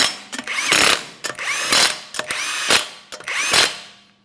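An impact tool drives 21mm lug nuts on a 2014-2019 Toyota Corolla front wheel in four loud, close bursts of rattling hammering, each separated by a brief pause.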